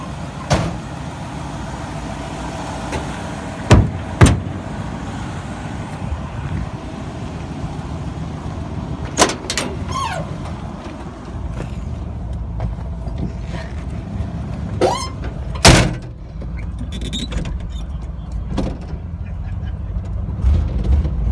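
A Ford F100 shortbed pickup engine idles steadily after being restarted, a low continuous rumble running throughout with occasional sharp knocks and clunks nearby.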